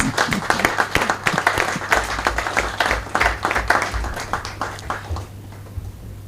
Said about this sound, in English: I want us to give the entire management a very sound round of applause, please